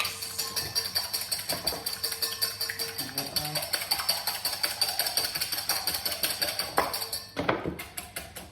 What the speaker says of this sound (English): I've lost my other mixer, so I'm going to have to reuse this one. Give it a mix.